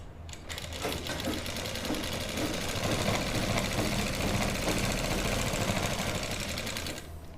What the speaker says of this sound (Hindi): इस फिटिंग के निशान से हमें सिलाई लगानी है।